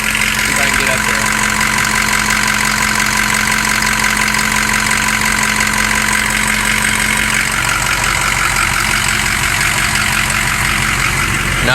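Loud, raw engine with a straight-pipe exhaust idles steadily throughout, a continuous rumbling drone with a faint knock, on a vehicle showing underboost and cylinder 4 fault codes; a person speaks briefly over it.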